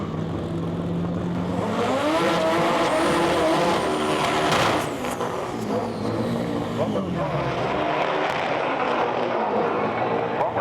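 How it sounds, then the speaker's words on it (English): Front-wheel-drive clutch drag cars doing burnouts at a drag race start line, a loud sustained roar of revving engines with squealing tyres and rising, falling pitch sweeps, under an announcer's commentary throughout. "Good, strong burnouts are moving into stage."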